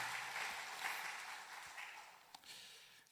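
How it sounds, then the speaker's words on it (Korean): Church congregation at a Wednesday worship service applauding the deacons' choir, a soft, distant patter of clapping that gradually fades and thins toward the end. "오늘 찬양한 안수집사회를 위해서 우리 다 같이 박수로 한번 격려하겠습니다."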